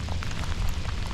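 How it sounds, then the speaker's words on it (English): Heavy rain pouring down outdoors on a river during a fishing trip, a steady dense hiss of drops on surfaces with low rumbling underneath, continuous and close throughout. "it's pouring pretty good at the moment."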